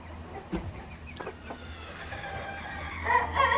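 Chickens on a farm kept with quail give faint, distant clucks and scattered calls over a low background rumble, growing slightly louder near the end.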